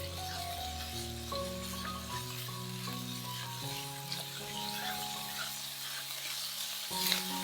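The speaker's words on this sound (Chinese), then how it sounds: "我们先把五花肉炒香" Minced pork belly stir-fries in a hot pan with a steady, close sizzle and scraping stir, running continuously beneath background music with no talking.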